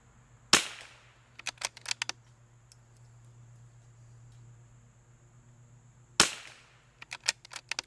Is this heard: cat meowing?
no